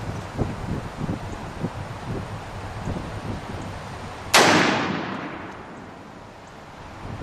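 An 1860 revolver loaded with a .457 ball fires a single loud gunshot with a long decaying echo, set against a steady outdoor wind and rustle, with no speech.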